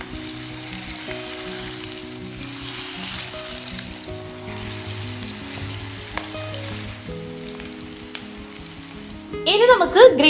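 Masala-marinated fish fries in a pan with a loud, steady sizzle that lasts throughout, joined by a brief burst of other noise at the very end.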